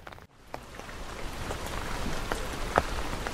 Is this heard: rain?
yes